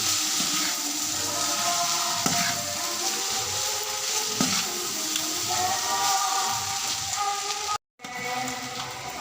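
Valuthanangai brinjal rice being stirred in a hot pan, a continuous close hissing sizzle with soft occasional scrapes and a brief cutoff near the end.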